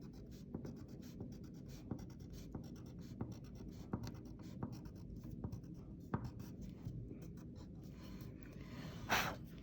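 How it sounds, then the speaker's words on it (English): A pen draws a dashed line across a graph on paper, a run of short, quiet, evenly spaced strokes that repeat steadily for several seconds, with one brief louder scratch close to the end. "I'm going to draw a dashed line"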